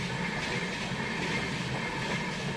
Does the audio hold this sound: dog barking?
no